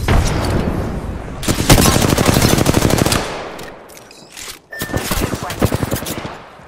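Loud, close rapid gunfire in the video game Apex Legends, with sustained automatic bursts, a brief lull, then more heavy fire.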